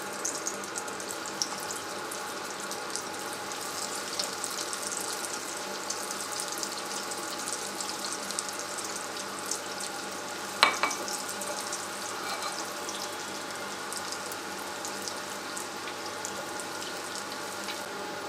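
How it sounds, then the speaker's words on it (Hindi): Cheese bread fingers deep frying in hot oil give a steady, soft sizzling hiss that runs evenly throughout, with a brief sharper crackle partway through and no talking. "अब हम इनको डीप फ्राई करते हैं।"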